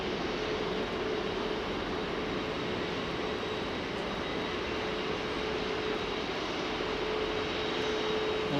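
A heavy airliner with GEnx engines roars on Heathrow's runway 09R, a steady, broad engine rumble and whine that stays constant throughout, with no talking.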